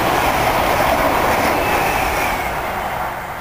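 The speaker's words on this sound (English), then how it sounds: "We've got a southbound train about to thunder by. And it's a London bound intercity service." A southbound London-bound intercity train passes at Needham Lake, a loud, steady broadband rush of wheels and air that holds throughout and only begins to ease toward the end.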